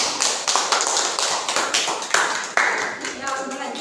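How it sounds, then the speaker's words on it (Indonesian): A high school religious-studies class claps for the first student group as it comes up to present, with a handful of loose, uneven claps and taps close by. "Kepada kelompok 1 kita beri tepuk tangan."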